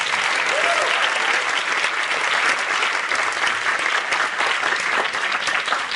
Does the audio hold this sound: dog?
no